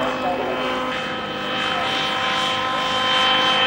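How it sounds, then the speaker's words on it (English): A small camera drone flies over Strangeways Prison during the 1990 riots, a steady engine whir that grows slightly louder toward the end, with no voices. "ITN's mini helicopter above the jail."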